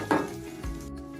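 Ginger garlic paste fries in a pan for butter paneer masala, giving a short burst of sizzling with a light clink of a utensil against the pan.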